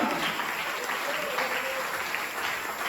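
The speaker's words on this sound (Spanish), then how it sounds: "Fuerte ese aplauso, fuerte ese aplauso" A church congregation gives strong applause at a Sunday service, a dense sustained rush of many clapping hands, with a voice briefly rising through the middle.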